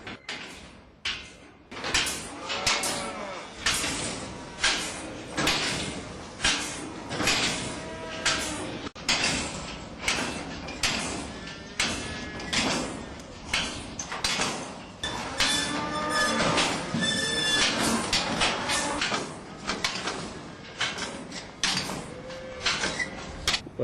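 Remote-controlled forcing pen gate working in a cattle yard, giving repeated metallic clanks and rattling knocks in an uneven rhythm, loud and close, with steady mechanical noise throughout.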